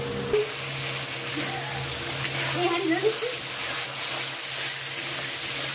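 Masala for chicken curry being sautéed in a pan, a steady soft sizzle with faint stirring scrapes running throughout, moderately loud and close, with low background hum.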